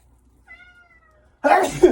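A cat gives one drawn-out meow at moderate distance, followed by a louder burst of nearby noise near the end.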